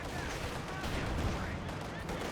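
Dense, continuous battlefield gunfire from the video game Company of Heroes 2, with overlapping rifle and machine-gun bursts and a Panzerschreck anti-tank shot, loud and unbroken throughout.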